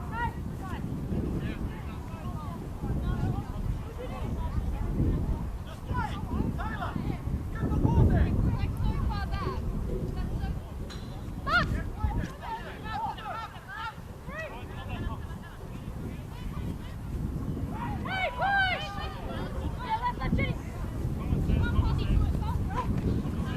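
Gusting wind buffets the microphone at an outdoor women's football match, a steady low rumble rising and falling under commentary, with faint crowd and whistle-like tones in the background.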